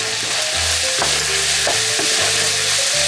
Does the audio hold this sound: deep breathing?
no